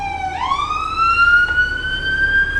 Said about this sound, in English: Ambulance is coming back.